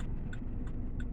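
Road traffic rolls past in a continuous low rumble, near and steady, with a few faint ticking clicks on top.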